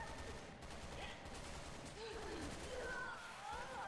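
Rapid gunfire bursts in Resident Evil 6 during Ada's campaign ring out fairly faintly amid game sound effects and spoken voices.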